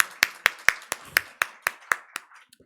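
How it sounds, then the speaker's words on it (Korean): A church congregation at a Seoul weekday worship service claps in encouragement for its young people, about nine sharp, evenly spaced claps ringing close and clear before trailing off into scattered softer taps. "격려의 박수라도 좀 쳐드릴까요?"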